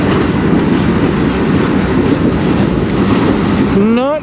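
A CN freight train passes on the Strathroy Sub, a loud, close, steady roar of rolling wagons with rumbling wheel noise, and rising squeal-like tones creep in at the very end.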